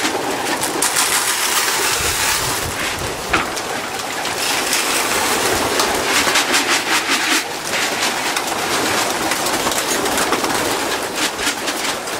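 Pigeons coo and murmur together inside a loft, a dense continuous chorus of soft throaty calls mixed with scuffling and wing noise, close and fairly loud, with no voices over it.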